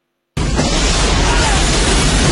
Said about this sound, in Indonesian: terjadi ledakan